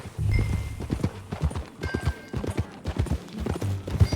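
Rhythmic clip-clop of horse hooves at a steady gallop in Red Dead Redemption II, fairly close, with a horse's snort or whinny and some music underneath.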